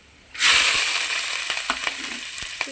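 Ginger, garlic and green chilli, with fenugreek seeds, drop into hot oil and burst into a loud, steady sizzle, with a few sharp pops and spatula scrapes near the end.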